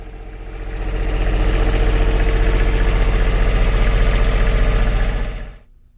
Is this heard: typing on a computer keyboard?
no